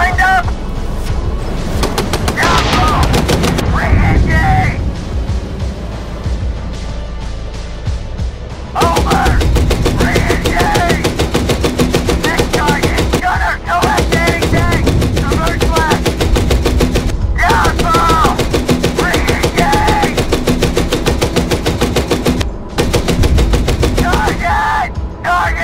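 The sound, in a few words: tank coaxial machine gun firing, video game GHPC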